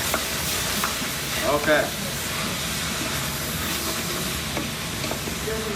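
Tomatoes sizzle in a hot pan for salsa and tortilla soup, a loud, steady frying hiss with stirring scrapes, while a voice speaks briefly over it.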